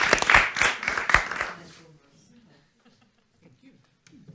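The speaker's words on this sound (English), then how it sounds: "Let's give a big applause to our panelists." A conference audience applauds panelists at a European forum session. The clapping is loud and dense for about a second and a half, then fades quickly into near silence.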